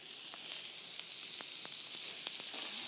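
Burger patties sizzle on a grill pan with a steady bright hiss, scattered with small pops and crackles throughout.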